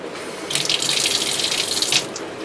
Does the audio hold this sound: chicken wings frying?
no